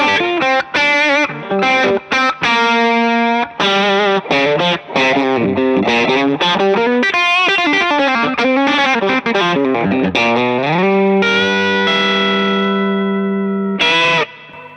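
Fender Custom Shop 50s Telecaster electric guitar on the neck pickup with light overdrive and the tone rolled back, playing a fluid, warm lead of quick notes and bends, ending on long sustained notes, loud and solo.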